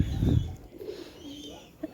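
At a pigeon farm keeping several breeds such as Giribaz and racing pigeons, a low cooing call sounds up close, followed by quieter coos and faint voices in the background.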